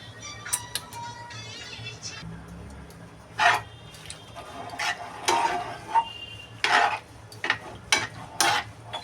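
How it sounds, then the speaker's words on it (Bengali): A spoon scrapes and clinks through soft macaroni pasta cooked in milk in a pan, making irregular bursts of wet stirring and metallic taps against a quiet background. "দেখো সবগুলো একটু মিশিয়ে নেবো এইভাবে ম্যাকারনিগুলো কিন্তু খুবই নরম হয়ে গেছে"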